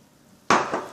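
Two pieces of cut banana drop into a mixer jar for a shake: a sudden hollow thud with a short second knock just after, close and alone after near silence.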